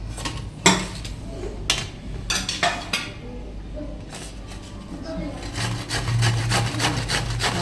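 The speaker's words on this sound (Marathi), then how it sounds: "चला हे किसून घेऊया" Coconut being grated by hand for a Marathi sweet, giving repeated raspy scraping strokes with some irregular knocks, close and fairly loud.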